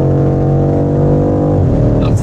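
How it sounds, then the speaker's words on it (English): A BMW M5 engine drones loud and steady at speed on a motorway, its harmonic note holding, then shifting as the automatic gearbox drops from sixth into fifth near the end. "get a bit of sound out of it there in sixth gear. It shifts very quickly down into fifth"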